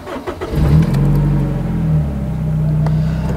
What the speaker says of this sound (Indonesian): kita sekarang akan mencoba starter mobil ini. tekan rem dan starter